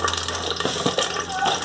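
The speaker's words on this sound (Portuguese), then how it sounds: "agora a gente vai colocar também um pouquinho de água" Water streams into a pot already holding popcorn kernels and oil, a rushing, splashy pour heard close up with a person talking over it.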